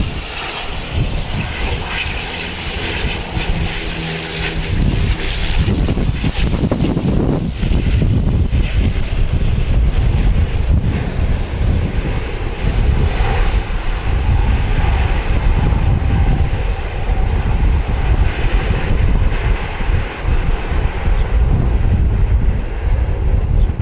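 A Dash 8 turboprop airliner on a Nelson flight at Wellington Airport, a loud continuous engine roar that holds steady throughout, with a brief higher whine fading early on and no talking.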